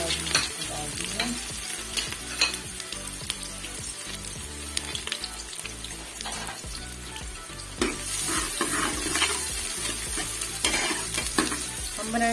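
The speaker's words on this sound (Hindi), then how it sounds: "अच्छे से गर्म हो चुका है। यहाँ मैं इसमें डालूंगी सबसे पहले प्याज डालूंगी।" Onions fry and sizzle in hot oil in a cooking pot, with steady crackling and hissing broken up by repeated stirring scrapes, close and clear with no talk.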